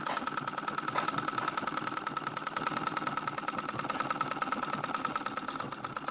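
A sewing machine stitches along the edge of Hmong-style trousers, a continuous close mechanical whir with a steady fast needle pulse throughout.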